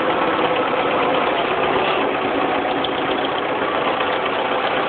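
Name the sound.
1974 International 2400A tractor running, raising and lowering its lift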